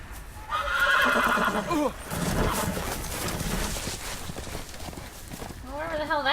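Horse in the Game of Thrones Telltale video game, a loud whinny followed by clip-clopping hooves and a second neigh near the end, with someone talking over much of it.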